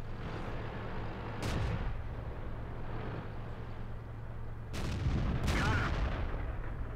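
Panther tank's main gun firing at a T1 Heavy in World of Tanks, two sharp booming shots about three seconds apart over a steady engine rumble, the second followed by a crackling impact.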